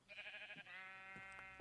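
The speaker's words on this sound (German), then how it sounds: "Ich höre ein Schaf." Sheep bleating in the Minecraft video game, a sustained wavering bleat followed by a longer steady one, clear and close with no talk over it.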